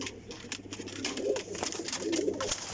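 Domestic flying pigeons coo in a soft, low, continuous murmur that rises and swells in waves, fairly close and steady throughout with no voices.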